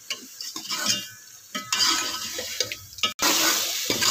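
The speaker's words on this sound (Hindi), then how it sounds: "चिकन को और मसाले को अच्छी तरह से भूनेंगे" Chicken and spices frying in a pan with yogurt for a shahi chicken daal mash, giving a steady sizzle broken by stirring scrapes and clinks from the pan.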